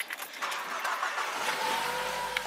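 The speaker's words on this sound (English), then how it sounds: "Okay, we're in the car, headed to the office." A car drives along on a cloudy, rainy day; engine noise swells from near silence into a steady mid-level drone, with a soft hiss of road and rain noise underneath and a faint whine near the end.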